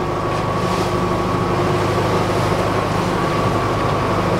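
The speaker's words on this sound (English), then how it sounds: "Only one thing wrong, and that's the motor's running." A sailing boat's motor running at sea, a steady, loud low drone with a faint hum, continuous throughout, mixed with wind and water noise.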